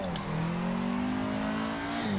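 Car engine in the Assetto Corsa driving game revs loudly and steadily while drifting around the Ebisu school course, pitch rising and sweeping with throttle, with a brief tire squeal near the start and no talking.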